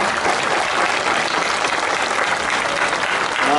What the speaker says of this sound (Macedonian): Аплауз за него.